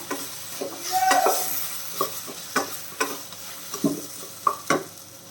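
A rice mixture seasoned with sambar powder is stirred in a pan over low heat, with a soft background sizzle broken by several distinct spatula scrapes and knocks against the pan at irregular intervals, close up.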